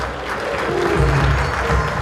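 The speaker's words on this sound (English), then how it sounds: "join me with a round of applause as we welcome to the stage the President of the ICCC, Mr. Sanjay Kumar." Steady applause from a large audience at an Indo-Canada Chamber of Commerce event, a dense continuous patter of clapping that holds at an even level throughout as a speaker is welcomed to the stage.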